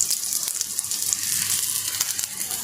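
Punjabi-style aloo paratha fries in oil on a pan, giving a steady bright hiss and sizzle with small crackling pops throughout, close and fairly loud, with no talking.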